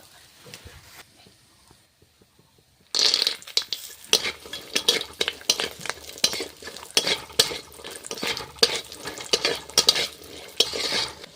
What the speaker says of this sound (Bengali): এই তেলে কটা বড়ি ভেজে নেব